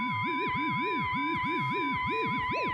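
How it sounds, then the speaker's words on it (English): Warbling electronic tones sweep up and down in repeated arcs over a steady high pitch, a sonified star light curve, synthetic and continuous, close and loud. "That's the sound of the light curve."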